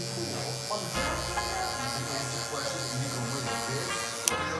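FX One electric hair clippers with a 1.5 guard and the lever open cutting hair for a taper fade, a steady close buzzing drone that shifts slightly as the blades move through the hair, with faint talk underneath.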